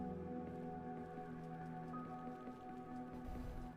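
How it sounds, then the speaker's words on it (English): Soft steady rainfall in the video game Eden Crafters, a faint continuous patter under a low ambient hum, with no voices. "It sounds like rain."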